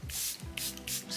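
Several short bursts of Charlotte Tilbury Airbrush Flawless Setting Spray misting from a pump bottle, fine hissing puffs repeating at a steady rhythm, close and fairly quiet, with no talking.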